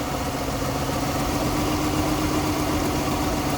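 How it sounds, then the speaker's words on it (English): A 2008-2013 Mercedes-Benz E350 engine idling rough from a cylinder misfire caused by a burnt ignition coil, a steady loud mechanical drone with an uneven pulsing hum and no talk. "like one cylinder making this misfire? Yeah. Wow, running bad."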